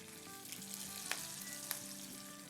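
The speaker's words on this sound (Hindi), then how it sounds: "और देते हैं तड़का अपनी दाल में" A hot tadka of garlic, curry leaves and green chillies is poured into dal, giving a steady, fairly faint crackling sizzle with a couple of sharper pops.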